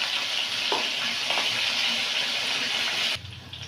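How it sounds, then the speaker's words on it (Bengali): Potatoes fry in hot oil in a wok, giving a steady bright sizzle with a few faint stirring knocks, close and continuous before dropping away abruptly near the end. "আলুটা ভেজে নেব,"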